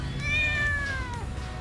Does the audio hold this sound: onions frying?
no